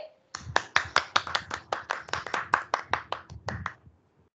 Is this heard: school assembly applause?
yes